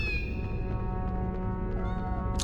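A cat meows in the Harry Potter PlayStation game, one drawn-out, loud and close call that holds steady and then rises at the end, with no talk over it.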